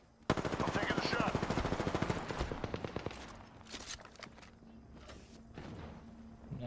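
Gunfire in a video game rattles off in a long rapid automatic burst, then thins into scattered single shots and thuds, loud and close at first and fading after.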